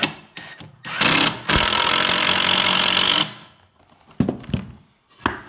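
A power drill drives a screw into the end grain of plywood with a short whir, then a sustained loud buzzing run of about two seconds, followed by a few sharp knocks and clicks nearby.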